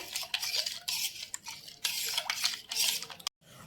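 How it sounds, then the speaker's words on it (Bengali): Sugar being stirred into wood apple pulp for homemade ice cream, a close, scraping and swishing spoon in a bowl that moves in uneven strokes and then stops sharply. "ভালো করে মিক্স করে নেব চিনিটা"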